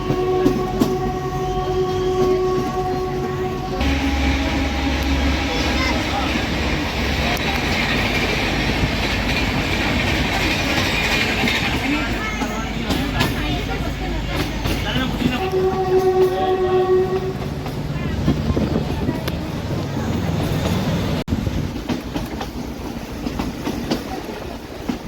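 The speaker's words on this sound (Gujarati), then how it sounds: "10-15 સ્પીડમાં ટ્રેન જાય, બહુ મજા આવે. ધીમે ધીમે જંગલોમાં થઈને." The Bilimora–Waghai train runs slowly through forest with a steady rolling rumble and rail clatter throughout, and two loud, sustained horn blasts, one at the start and another about two-thirds of the way through.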